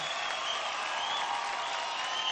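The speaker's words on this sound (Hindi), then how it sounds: "जोरदार तालियां हो जाए इनके लिए" A studio audience at a televised dance competition applauds its eight dancing stars, a loud, continuous roar of clapping and crowd noise that stays even throughout the short stretch.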